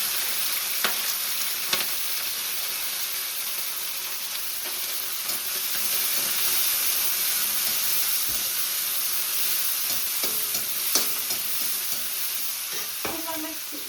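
Garlic and capsicum fry in a pan for macaroni, a soft, steady sizzle and hiss with occasional clicks of stirring, heard close and fairly quiet with no talking.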